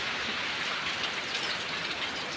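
Heavy rain pours down in a dense, constant hiss with no pauses and no voices heard.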